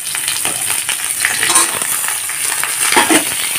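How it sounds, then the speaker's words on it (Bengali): Drumstick stalks and potatoes fry in a pan with a loud, close sizzle, broken by scraping stirring strokes and light clinks, with no talking. "ডাঁটাগুলোকে হালকা ভেজে নেব। ডাঁটাগুলো হালকা ভাজা হতেই এখন দিয়ে দেব আলুগুলো।"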